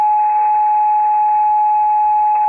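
An amateur radio station tuning up produces a loud, steady single-pitch carrier tone over faint static hiss, sustained unbroken throughout.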